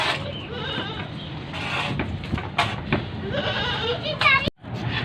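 A Taapri goat bleats at a livestock market amid busy background noise and nearby voices, the bleats short and wavering, with one sharp call near the end.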